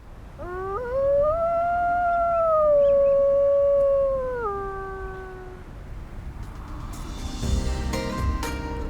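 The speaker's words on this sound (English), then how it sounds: "Wolves communicate and defend their territory by howling" A single wolf's long, loud, wavering howl rises and holds for several seconds before tapering off, followed by fainter higher yips and background noise.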